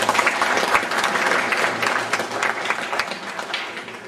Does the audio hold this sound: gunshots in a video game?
no